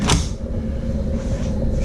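A kitchen drawer in a 2020 Montana 3120RL RV shuts with a short thump close to the microphone, followed by a low steady rumble of background noise.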